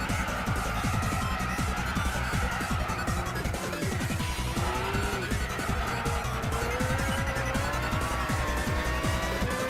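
Race car engine from the video game Gran Turismo 6, a Honda Civic Type R racing against rivals, droning loudly and steadily with shifting pitch and repeated tire squeals through corners, with no voices.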